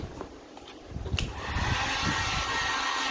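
A heat gun starts blowing hot air while shaping a thinner neck on a gothic holiday wreath decoration. A low handling rumble comes first, then a rising steady airy roar, close and sustained.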